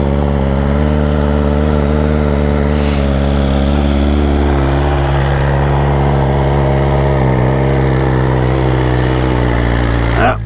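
A 2023 BMW S1000RR with a stage 1 setup revs loud and close, its throbbing engine drone holding steady with rises in pitch as the exhaust flapper valve opens.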